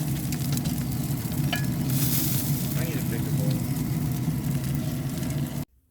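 Sausages sizzle on a backyard barbecue grill at a 4th of July cookout, giving a steady, fairly close frying hiss that runs until an abrupt cut at the end, with some stirring and handling noises mixed in.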